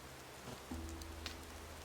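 Steady rain pours down in the video game Gothic 2: Night of the Raven, a constant soft hiss of drops on surfaces with a low hum underneath and no voices.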